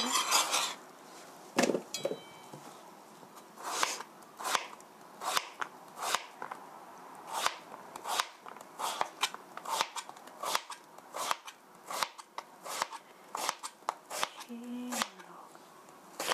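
Sliced cucumber and daikon pieces dropped into a container, a long run of sharp, irregular clacks and taps at close range, with no talk.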